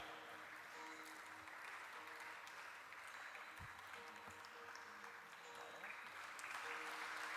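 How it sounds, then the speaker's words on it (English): An audience at a lifetime achievement award ceremony for Padma Shri Dr. Pramod Kale gives sustained, fairly faint applause. A voice carries over the clapping the whole time. "A big round of applause, my friends"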